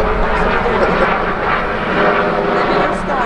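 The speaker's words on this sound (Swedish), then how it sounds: "Min helikopter som flyger över här just." A helicopter flying overhead above a forest logging area, a loud broad rotor and engine roar that swells and fades slightly over a few seconds, with a person's speech layered over it.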